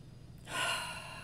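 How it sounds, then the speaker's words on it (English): A single long, deep inhaled breath, close and audible as a rising airy rush that swells and then holds, with no talking. "take a big deep breath in"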